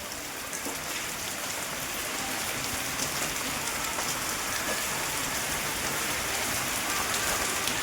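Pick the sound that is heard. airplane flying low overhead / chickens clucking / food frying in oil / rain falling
rain falling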